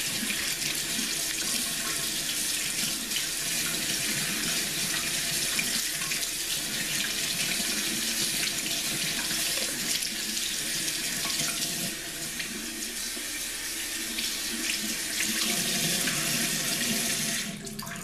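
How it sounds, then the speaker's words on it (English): Hot water runs from a household tap into a sink in a steady, close, full rush that holds for about eighteen seconds, dipping slightly near the end, with no voices over it. "So I'm going to get the water hot again."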